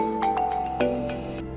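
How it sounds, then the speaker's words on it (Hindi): A phone rings with a short electronic ringtone, a few repeated bright chirps over a steady tonal bed, loud and close, with no one speaking. "अभी पुलिस स्टेशन से फोन आ रहे हैं।"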